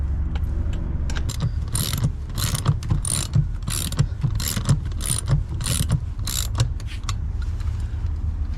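Heavy-duty screws being driven into a bracket during a cabin room build, a steady run of ratcheting, clicking mechanical bursts repeating in quick pulses over a constant low hum, close and fairly loud, with no talking.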